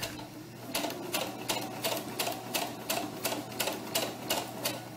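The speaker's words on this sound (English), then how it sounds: "we are just going to sew off of the fabric" Sewing machine stitching fabric for a doll tunic, its needle knocking in a quick, even run of bursts, close up and fairly quiet with no talking.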